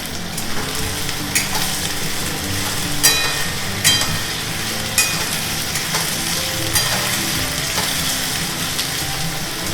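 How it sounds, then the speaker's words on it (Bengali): Meat stir-fried dry in a pan with onion and no water hisses loudly and continuously, with occasional sharp scraping strokes and spatters standing out from the steady sizzle. "আজকে একটুও জল দেবো না মাংসে কষিয়ে কষিয়ে সিদ্ধ করব।"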